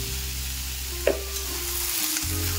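Bottle gourd with turmeric and salt is stirred in a pan over high heat, a steady sizzle broken by a sharp scrape of the spatula near the start and softer stirring later, all up close with no voices.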